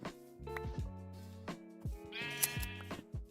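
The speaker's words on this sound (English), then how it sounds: "Might just shear these sheeps over here and make a bed." Sheep in the video game Minecraft bleat in a run of short, wavering cries, several overlapping calls spaced through the moment, fairly close and clear with no talk over them.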